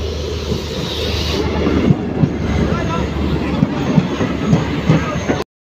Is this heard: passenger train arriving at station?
yes